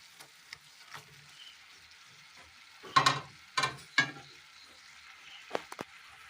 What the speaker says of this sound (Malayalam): മുട്ട ഉടയാതെ നന്നായി ഇളക്കിയെടുക്കണം